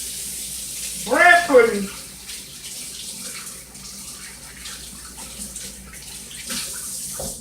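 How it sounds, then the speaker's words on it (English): Tap water runs steadily into a kitchen sink while hands are washed, a constant moderate splash with someone speaking briefly over it near the start. "So while I'm washing my hands"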